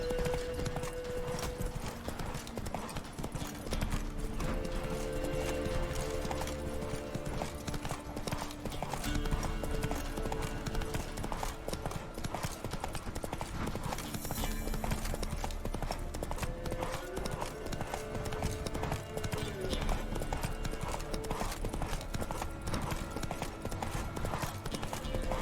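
Roach, a horse in The Witcher 3: Wild Hunt, trots with a continuous, rapid clip-clop of hooves that runs steadily throughout, with faint game ambience and occasional voices underneath.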